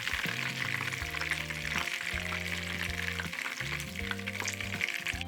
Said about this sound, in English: this has been frying for 6 minutes